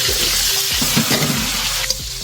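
Sliced squash (kalabasa) frying in hot oil in a pan, a dense continuous sizzle with a few soft stirring scrapes, close and loud with no talking.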